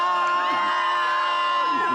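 A crowd of tourists shouts and cheers together on cue at a popular rock formation in Taiwan, a steady wash of voices with sustained tones running through it.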